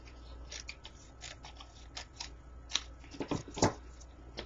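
Scissors trim paper for a handmade paper daisy, making a series of crisp, close snipping cuts that quicken toward the end, with no voice over them.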